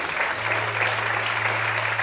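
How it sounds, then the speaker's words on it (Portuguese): Church congregation clapping in praise during a Portuguese-language service, a steady, full wash of many hands with a low sustained hum running beneath it. "Quantos podem aplaudir o Senhor?"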